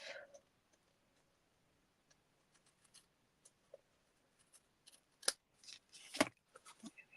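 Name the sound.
scissors trimming card stock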